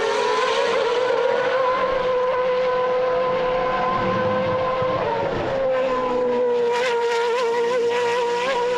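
A race car at Portimao circuit driving flat out over a crest and through a left-hander, a loud high-pitched engine whine holding steady then shifting pitch, close and alone without talk.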